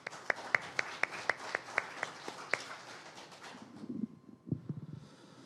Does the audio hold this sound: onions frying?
no